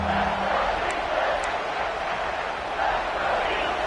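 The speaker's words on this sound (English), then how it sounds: "These fans are going absolutely nuts." Fans at an American football stadium cheer as a steady, loud wash of crowd noise, with a commentator's voice over it.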